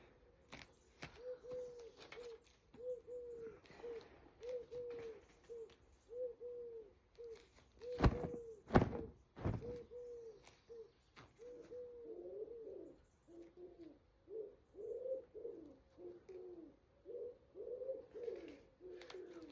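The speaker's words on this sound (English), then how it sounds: "I can hear the pigeons." Pigeons coo outdoors on a morning with clear blue sky, a steady run of soft repeated low coos through most of the stretch, with a few louder knocks and bumps near the middle and no talking.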